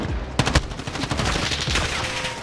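Automatic gunfire in the online shooter game Modern Warfare, rapid bursts of shots rattling in a dense fusillade, loud and close, with a steady game ambience underneath.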